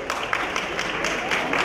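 An audience at a Dalit poetry gathering claps to welcome the poets, a continuous patter of many hands that stays steady and fairly close through the short stretch.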